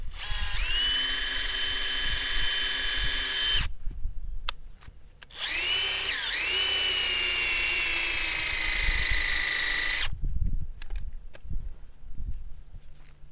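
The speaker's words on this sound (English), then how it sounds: "I'll come down a little bit lower than center and drill up" A hay probe drill bores into a wrapped hay bale, whining steadily in two sustained bursts, a shorter one and then a longer one, with a brief pause and light handling knocks between them. No one speaks.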